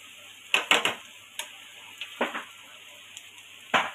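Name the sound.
tomatoes added to pan sizzling with fried onion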